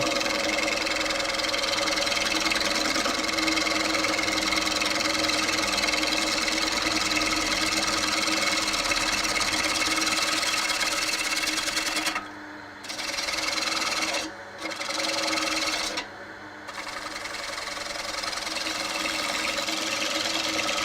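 A spinning woodworking lathe hums steadily and close for a long stretch, with a few brief dropouts near the end where the motor sound cuts and returns.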